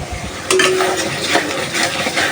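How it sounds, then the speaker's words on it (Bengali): Fresh snakehead fish frying with spices in a pan, a loud close sizzle that rises after a moment, with scraping and clinks of a utensil stirring through it. "এখন মশলার মধ্যে ভালোভাবে মাছটা কষিয়ে নিব"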